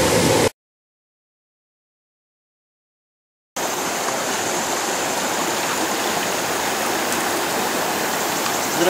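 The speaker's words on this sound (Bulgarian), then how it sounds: "Ето ви улей Язон Голд, който вече го използваме с по-бавна вода, без горните капани с преградите" Water rushes steadily through a Yazon Gold sluice box at a slower flow, a close, broad, even hiss and burble, broken by a few seconds of dead silence near the start.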